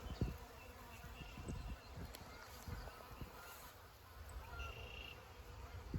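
Buckfast honey bees buzz faintly around an open hive, a soft continuous hum with scattered close bumps and handling noises.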